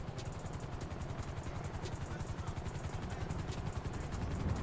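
Police helicopter in a police simulation video game, landing nearby: a steady, loud rotor thump with a fast low pulsing and engine whine that swells slightly toward the end, heard alone.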